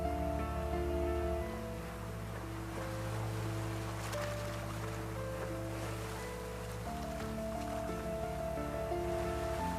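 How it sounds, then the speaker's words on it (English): Ocean water washing across a ship's main deck in heavy North Atlantic seas, a steady rushing surf-like wash under a low sustained drone, continuous for about ten seconds. "Notice how much water washes over the main deck."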